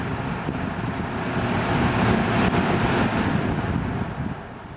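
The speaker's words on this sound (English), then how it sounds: "this one has a much more pronounced startup sound and much older fan" A late-1980s electric fan with a metal-housed motor starting up, giving a loud, close, broadband whooshing rush that holds steady and then eases slightly near the end, with no talk.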